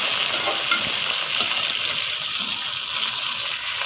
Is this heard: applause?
no